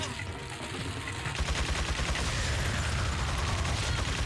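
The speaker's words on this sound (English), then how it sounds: "Yep, got hit right out of that explosion." A grenade explosion in the video game Resident Evil 4 erupts in a dense, loud burst of blasts and crackling gunfire-like rumble that stays loud throughout.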